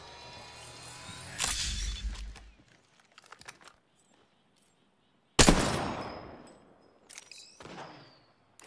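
Gunfire in Apex Legends, heard as rapid bursts of game shots in two loud clusters separated by a near-silent gap, with sharp crackling attacks and some brief clicking effects afterward.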